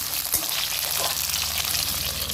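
Cut eggplant pieces, sprinkled with a little salt and turmeric, fry in oil in a pan with a steady, moderate sizzle and faint crackle throughout, with no voices.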